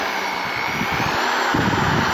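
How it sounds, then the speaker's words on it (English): A stainless steel baffle plate from a 1972 Evinrude 25HP outboard is being decarbonized with a power tool, a constant loud roaring whoosh that swells and grows rougher partway through, with no voices. "Here I'm decarbonizing the stainless baffle plate"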